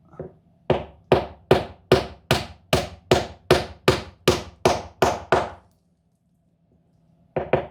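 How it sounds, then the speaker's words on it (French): A small hammer taps a piece of wood into an old roof beam in a steady run of about thirteen sharp, even knocks at close range, then stops, with one more tap after a short pause. "je vais les enfoncer avec un petit bout de bois avec mon petit marteau"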